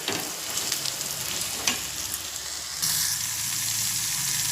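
A tomato fries in a pan with a steady, close sizzle that swells a little louder and brighter partway through; no talking.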